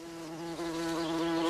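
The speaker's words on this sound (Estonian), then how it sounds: "Herilane on veel parem." A wasp droning right up close, a loud continuous buzz with a slight dip in pitch partway through, steady and growing stronger, with no voices.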